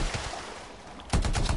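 Bursts of gunfire in the video game Anthem, a dense rattling volley that breaks in sharply after a quieter stretch of background game noise, loud and close.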